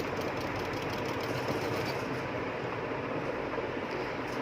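A sewing machine stitches a baby skirt in one continuous steady whirring run, close and even throughout, with no voices.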